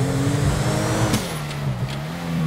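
A car engine drones steadily as it is driven in GTA 5 Online, a low sustained hum with slight pitch shifts and a brief rise in revs, heard up close with no talking.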